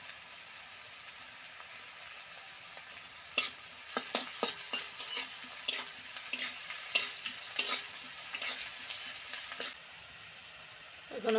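Chopped garlic fries in a lightly salted pan for an egg curry. A faint steady hiss builds into scattered crackling pops and stirring after a few seconds, then settles back down.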